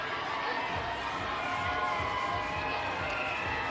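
Crowd noise along a Mardi Gras parade route in downtown Mobile on Fat Tuesday, a dense, steady roar of distant cheering and shouting with people talking nearby.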